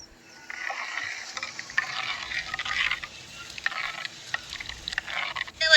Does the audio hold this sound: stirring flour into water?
yes